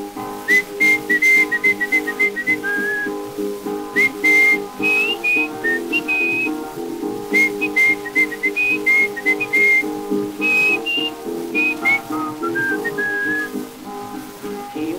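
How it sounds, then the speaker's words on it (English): A man whistles an old familiar tune on a 1925 recording, a bright, lilting melody of short phrases with steady instrumental accompaniment beneath it and no singing. "then he'd whistle in his old familiar tune"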